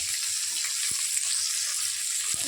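Onion and green chillies fry in a pan, a steady close hiss of hot oil that stays even throughout with a couple of faint taps and no talking.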